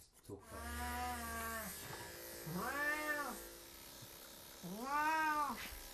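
A long-haired Persian cat meows three times in drawn-out, rising and falling cries over a steady low buzz of electric clippers during a close body shave.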